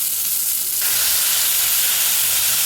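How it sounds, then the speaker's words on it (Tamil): Mint, coriander and curry leaves sautéing in a pan, a loud, close, continuous sizzle and hiss that swells as the leaves hit the hot oil. "புதினா, கொத்தமல்லி, கறிவேப்பிலை 3ஐயும் நல்லா கொட்டி வதக்குங்க."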